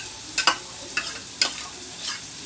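Onion and garlic sautéing in a pan, with a few close, sharp scrapes and stirring clatters over a low, steady sizzle.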